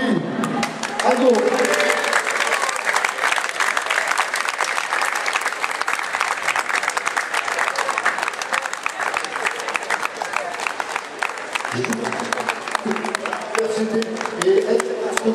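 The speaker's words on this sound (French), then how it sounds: "Je demande à Aldo Grumarin, on l'applaudit" Audience applause for Aldo Grumarin at a Toulon rugby club 110th anniversary gathering, steady dense clapping filling the room for about fifteen seconds, with some voices showing through near the end.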